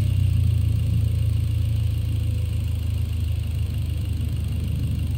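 Lancer idling in Gran Turismo 7, a steady low engine drone holding evenly throughout with no revving and no voices over it.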